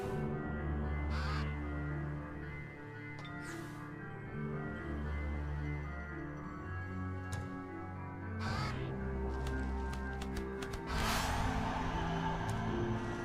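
Greenbeak crows from the Age of Wonders 3 game caw several times in separate bursts, loud and clear over a steady, layered fantasy music bed with drones and percussion.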